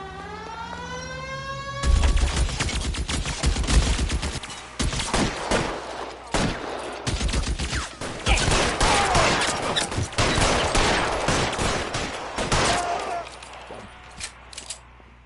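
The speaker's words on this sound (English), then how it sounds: "Open fire!" Sustained gunfire from a shootout in the video game L.A. Noire, loud and dense with rapid overlapping shots and bursts, following a brief rising siren-like tone at the start and continuing for most of the stretch.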